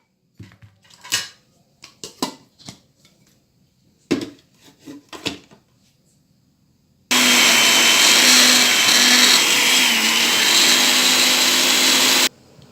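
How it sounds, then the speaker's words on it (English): A blender purees bitter leaf with spinach for African bitter leaf soup, a loud, steady whir that runs for about five seconds after a few sharp clinks and knocks of utensils, with no talking. "you blend them with the spinach"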